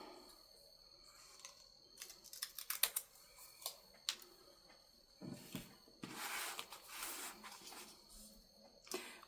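Paper being folded back and cut with scissors while making a small envelope folio, quiet close snips and crisp rustles in irregular bursts, with a longer rustling stretch near the end and no talking.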